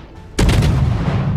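A burst of naval gunfire in World of Warships fired from a Kagero destroyer, a sudden loud blast that rolls on into a sustained roar with no talk over it.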